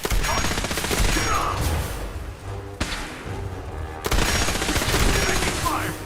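Dense, sustained gunfire in the video game Fallout 4, loud and continuous bursts with a brief break midway before resuming.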